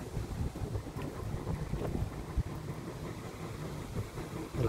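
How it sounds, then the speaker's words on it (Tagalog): Strong wind and rain sweep past in a continuous, blustery rush with low buffeting thumps against the microphone, steady and fairly loud throughout. "Malakas pa rin ang hangin oh. Saka ulan."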